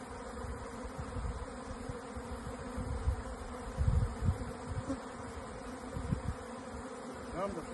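Bees swarm around old beehives, a dense, continuous buzzing hum of many insects close by, swelling slightly in the middle.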